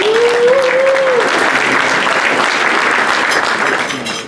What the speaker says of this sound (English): Judge Bruno, I was looking at which judges clapped harder